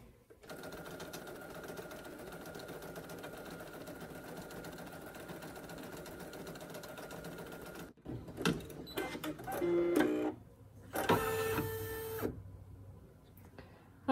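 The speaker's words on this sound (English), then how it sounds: "Next, it's going to stitch the word embroidery." An embroidery machine stitches the word embroidery for an in-the-hoop needle minder, first a steady quiet mechanical hum, then louder irregular whirring and clattering bursts as the needle moves through the lettering.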